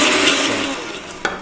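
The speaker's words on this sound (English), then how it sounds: "we're going to blend it up" A kitchen blender whirring as it blends cooled spinach, a loud steady motor roar that tapers slightly, ending with a brief clunk.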